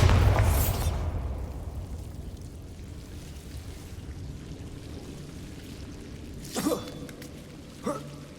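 A Bombarda spell explosion in the video game Hogwarts Legacy: a loud booming blast at the start that decays into a long rumbling tail, followed later by two brief softer pops.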